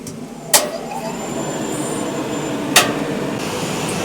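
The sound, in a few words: crane turning while being driven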